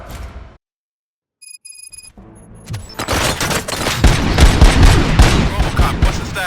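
Rapid gunfire bursts from the video game Robocop: Rogue City, loud and dense after a brief silence and faint electronic beeps, sustained volleys filling the scene.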